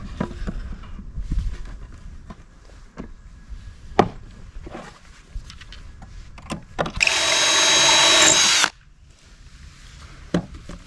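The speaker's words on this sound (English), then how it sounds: "at that point you've got all your pocket holes drilled on the back" Drill boring pocket holes into a cabinet side panel for a boat upper cabinet, a loud sustained high whine of about a second and a half amid scattered knocks and handling clatter of wood, close by.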